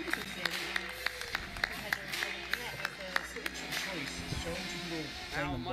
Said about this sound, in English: All you hear is the announcers clapping.